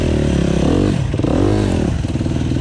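A KTM 350 EXC-F four-stroke dirt bike ridden hard and revved, its engine note climbing, dipping and surging again in loud, close bursts with some clatter.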